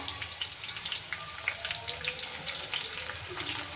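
Onion sizzles in hot oil in a kadhai with whole spices, giving a soft, continuous crackle with scattered pops, faint and close, with no talking over it.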